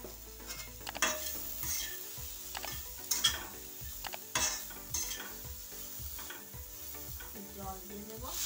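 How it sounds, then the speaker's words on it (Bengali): A spoon stirs a spiced samosa filling of salt, turmeric, ground coriander, amchur powder and a little water in a pan, scraping in steady repeated strokes over a soft background sizzle, close and alone with no talking. "মশলা মিক্স করে দেবো।"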